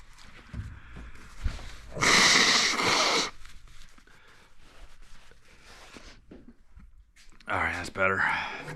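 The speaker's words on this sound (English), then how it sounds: "blow my nose real quick." Someone working on a 2025 Polaris 9R snowmobile build blows their nose in two hard, noisy honks, a longer one early and a shorter one near the end, with faint shuffling and breathing between.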